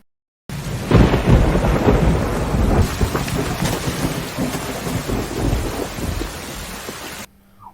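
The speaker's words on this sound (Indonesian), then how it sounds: "Hujan turun sangat deras malam itu." Heavy rain pours down at night with rolling thunder, a loud, continuous wash of downpour and deep rumbles that starts abruptly and holds steady before ending.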